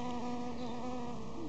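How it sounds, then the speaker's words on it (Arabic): A bee or wasp buzzes close among flowering rosemary, a continuous steady drone with a slight pitch wobble near the end, alone without speech. "ما بعرف اذا هي زلقطة ولا هي نحلة ولا شو"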